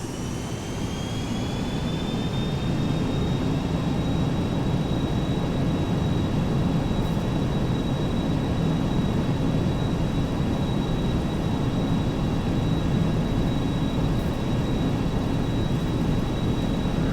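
Boeing 737-200 jet engines spooling up for a takeoff roll in a flight simulator, a steady loud roar with a rising high whine that settles into a sustained tone, heard alone.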